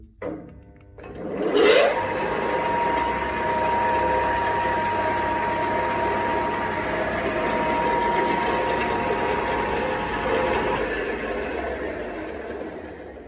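An old Soviet drill press motor spins up with a click, turning the spindle, then runs steadily with a whirring hum and a faint high whine, continuing evenly before slowly winding down.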